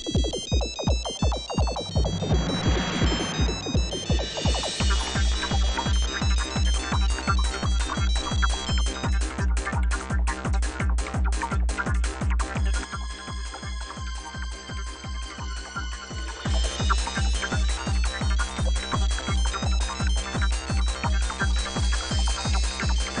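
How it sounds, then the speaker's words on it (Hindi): A mobile phone ringtone plays continuously, a loud, bright repeating melodic pattern with a steady pulsing rhythm lasting throughout, with no talk over it. "इस फोन को भी इसी वक्त बजना था"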